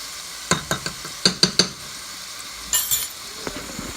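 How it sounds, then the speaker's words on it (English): Onions and garlic caramelizing in a pan for baked spaghetti, heard as a run of sharp stirring scrapes and clinks in the first half, then a brief burst of hissing sizzle and a few fainter knocks, with no talking. "Now what we're doing now is caramelizing the onions and garlic together"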